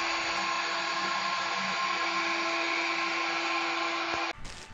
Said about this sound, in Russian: чтобы вы могли оценить уровень шума, который создает этот робот-пылесос